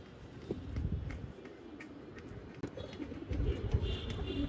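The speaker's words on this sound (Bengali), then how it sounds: "আরো 3টা আসছে কবুতর" Racing pigeons landing after a race from Narsingdi, soft cooing calls with light wing flutters and scuffling over a steady outdoor background, fairly faint and continuous.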